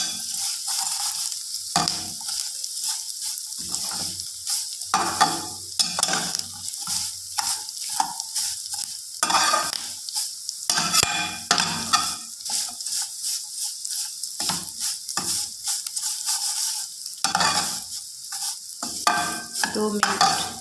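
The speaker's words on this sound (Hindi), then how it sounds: "भूनने के बाद हम इसमें सेवइयाँ डाल देंगे। अब हम इन्हें भून लेंगे।" Vermicelli roasting in a pan for sheer khurma gives a steady loud sizzle, broken by repeated scraping strokes of a spoon stirring close by, all through without any talk.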